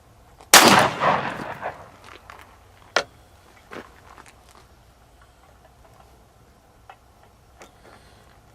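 A Sig Sauer P210 pistol fires a single sharp, loud shot that rings out briefly, followed by faint scattered ticks and clicks in an otherwise quiet setting.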